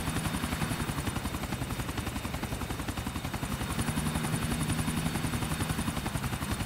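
A helicopter in Grand Theft Auto IV gives off a loud, continuous rotor chop with a rapid pulsing beat and a steady engine whine underneath, filling the whole stretch without pause.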